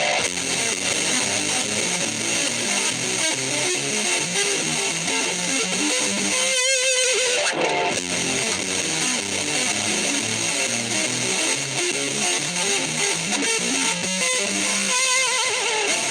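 Distorted electric guitar plays rapid, continuous string-skipping arpeggio patterns, loud and dense, with a brief pause partway through.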